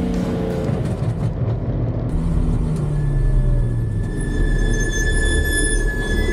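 A Porsche race car rolls into the pit lane at Snetterton during a Porsche Trophy race, a steady low engine rumble with a thin whine rising over it, close and continuous.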